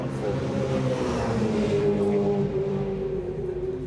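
Endurance race cars, including Hondas and a BMW, accelerate out of corners during a 2017 endurance championship final, producing a sustained rising engine drone at middle distance.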